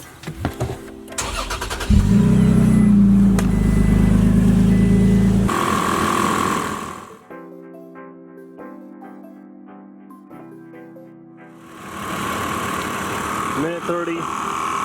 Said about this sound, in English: We'll start up the truck.